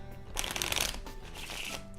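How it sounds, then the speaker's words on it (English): A deck of playing cards is riffled and shuffled up close for a card game, a rapid fluttering patter in two bursts, fairly quiet. "Shuffle the deck, then place the stack of shuffled cards onto the table."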